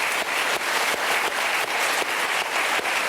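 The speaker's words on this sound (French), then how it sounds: "D'abord, on l'applaudit." A television studio audience on a French Sunday talk show applauds a kitesurfing champion, a loud, dense and continuous crowd clapping with no voices.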